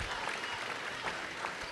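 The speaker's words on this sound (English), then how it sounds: "Nice round of applause for Jordan Bradshaw as he has a seat." A crowd applauds at a boys high school basketball game between Illini Central and Auburn, a dense, even patter of clapping that stays steady through the brief moment.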